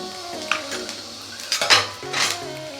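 Spoon stirring cumin seeds into coriander already frying in a metal pan for a Bengali vegetarian curry, giving a few scraping clinks and light clatters over a soft background hum.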